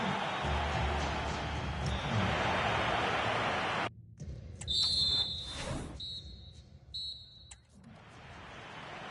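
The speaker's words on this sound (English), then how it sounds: "And there's the whistle." A referee's whistle at a football match restart: a few short, shrill blasts ring out right after a loud, roaring crowd dies down, with the crowd murmur continuing underneath.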